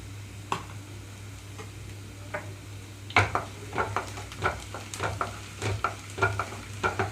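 Garlic cloves fry in a pan over a medium flame, giving a soft steady sizzle. Close, intermittent scrapes and taps of a stirring utensil against the pan come in a loose rhythm, with no talking.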